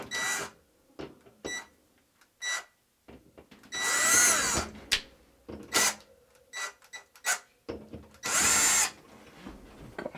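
Short bursts of a power drill whirring on and off several times, close and loud, with brief pauses and small clicks between runs.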